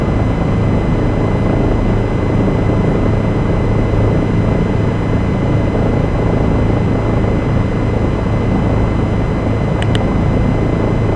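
A Bell 207 helicopter banks through a turn in flight on a Glasgow to Edinburgh trip, heard from inside the cabin as a loud, steady, unbroken rotor and engine drone.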